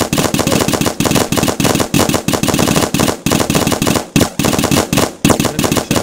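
Paintball markers firing in rapid bursts, a loud rhythmic stream of sharp pops broken by short pauses roughly every second, close and without talk.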